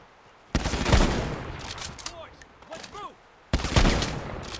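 Two sharp bursts of gunfire in the video game Lost Light, a loud volley near the start and another near the end, with brief echoing tonal effects between them and no talk.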